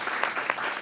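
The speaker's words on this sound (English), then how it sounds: "Can we give them a round of applause for their great work?" Short burst of applause for a students' team receiving certificates at a school board of education meeting, a dense patter of clapping from a room of people, steady and moderately loud for under a second.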